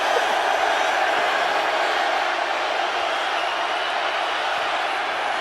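A football stadium crowd at an XFL game roars steadily, a broad, loud wash of cheering that holds at a constant level throughout.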